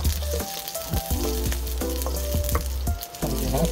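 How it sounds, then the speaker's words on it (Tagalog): Chopped onion sizzles steadily in hot oil in a pan as it is sautéed, with a loud continuous fry and occasional scrapes and knocks of a utensil, no talking. "ito muna yung onion nilagay natin na panggisa"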